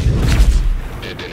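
Blaster fire in Star Wars Battlefront 2 comes as a loud burst of booming, cracking shots over about a second, with low rumble and sharp high bursts, then fading.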